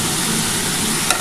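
Green chillies hit hot oil in a pan for a spinach ghonto, giving a loud, dense, continuous sizzle up close, with one brief clink near the end and no voices.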